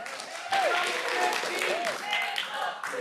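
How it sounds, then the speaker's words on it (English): A city council meeting audience claps in a broad, diffuse wash beneath a speaker's voice, steady for a few seconds with slight swells. "Please refrain from chanting and clapping in between."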